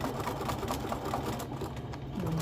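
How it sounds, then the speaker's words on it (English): Close up, a sewing machine runs a steady, fast mechanical whir while back stitching a bouffant scrub cap, continuous and even throughout. "Make sure you do that back stitching."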